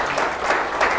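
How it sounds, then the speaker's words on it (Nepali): Church congregation clapping in thanks during a Nepali sermon, a brief burst of dense, steady applause filling the room. "परमेश्वरलाई फेरि एकपल्ट ताली बजाएर हामी धन्यवाद भन्नेछौँ"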